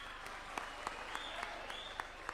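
A crowd at a political rally in Embu applauds the President with steady, continuous clapping, punctuated by a few sharper individual claps standing out near the front.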